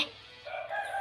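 A rooster crows once, a rising then sustained call that is fairly close and clear, with no talk over it.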